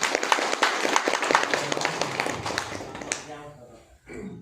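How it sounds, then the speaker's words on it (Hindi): An audience breaks into dense, lively applause for about three seconds, then it cuts off as a person begins speaking. "एक बार तालियां बजा दीजिए सबके लिए।"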